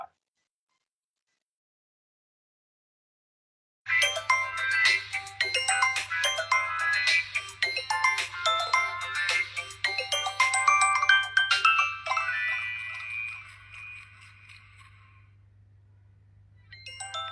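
A telephone rings out alone after several seconds of silence, a bright repeated ringtone pattern that runs for about eight seconds, then trails off into a quieter tone before a short final burst.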